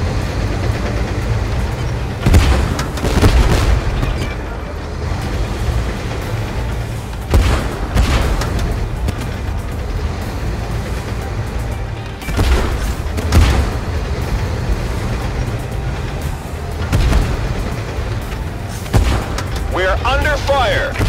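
Artillery fire and explosions in a video game, with heavy booms recurring every few seconds over a constant low rumble and voices talking throughout.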